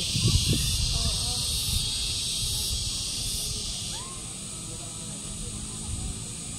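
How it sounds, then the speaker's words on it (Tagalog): Crickets chirp on a farm in Tagaytay, a steady high-pitched trill running continuously in the background while people talk quietly nearby. "tignan mo may mga kuliglig"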